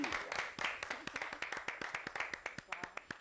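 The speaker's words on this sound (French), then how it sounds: "On va applaudir." TV show studio audience clapping for an arriving guest, a distinct rhythmic run of sharp individual claps at a fairly quiet level.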